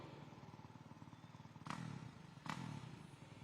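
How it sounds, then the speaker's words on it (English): Freestyle motocross bike engine at an indoor arena event, idling with a steady buzzing rumble, then revving sharply twice in short loud bursts about a second apart. "There we go, revving it up."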